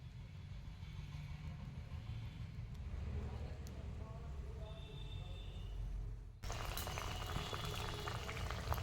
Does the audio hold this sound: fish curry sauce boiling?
yes